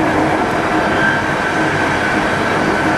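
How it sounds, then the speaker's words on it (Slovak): A train runs along a railway line near a viaduct at Šenkvice, Slovakia, producing a loud, steady rumble that holds at constant strength throughout. "za nejaký čas bude prechádzať v tom smere vlak"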